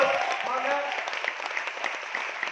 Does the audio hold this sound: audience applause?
yes